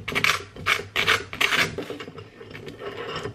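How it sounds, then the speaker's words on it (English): Butter is spread across crisp toast in several close, rhythmic rasping strokes, each a dry scrape, quieter and softer toward the end. "You cannot convince me that the sound of buttering toast is not the best sound in the world."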